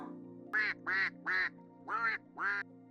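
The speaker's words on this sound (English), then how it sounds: "El pato nada. The duck swims." A duck quacks five times in an even rhythm, fairly close and clear over a steady low hum.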